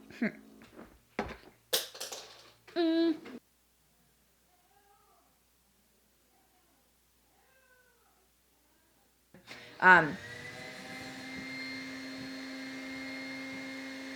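A household vacuum cleaner switches on after a near-silent stretch with a rising whine, then runs as a steady, fairly loud drone. Voices and a short squealing sound come earlier in the recording.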